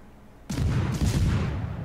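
A battleship's main guns fire in the World of Warships naval game, one sudden loud boom that rolls into a long, heavy rumble with a second thump partway through.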